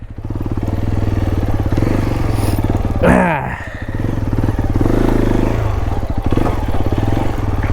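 A Hero Xpulse 210 motorcycle engine thrums loud and close while riding, with a rapid pulsing beat, a brief rev-like sweep and clatter midway, and a voice talking over it.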